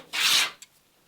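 A hand plane takes a single rasping stroke across glued lapstrake planking as a wooden boat's laps are bevelled. The stroke is loud and close, about a third of a second long, and a faint tap follows it.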